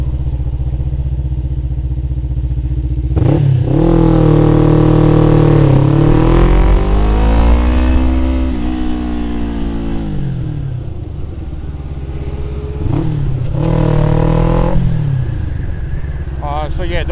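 Motorcycle ridden on a wet road, engine rising and falling through several revving accelerations, loud and close throughout, with steady road and wind noise underneath.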